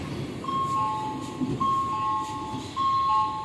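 Rapid Metro train in New Delhi, with steady rumbling running noise and repeated high electronic tones recurring through the ride, a voice speaking faintly underneath.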